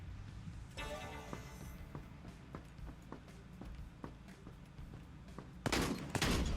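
Rifle gunfire in the Quantum League arcade shooter: a string of sharp, evenly spaced shots at moderate volume, with a louder burst of fire near the end.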